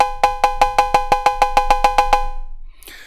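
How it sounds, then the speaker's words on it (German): Bitwig E-Cowbell synthesized cowbell struck about a dozen times in an even, quick rhythm, bright and metallic, each hit ringing briefly before the next, alone and close. "das ist die Cowbell, die habe ich hier schon mal reingeladen und die klingt so"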